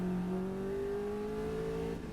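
Caterham race car engine at full throttle at Silverstone, a loud, steady high-revving drone with rising pitch through the run, close up and alone without talk.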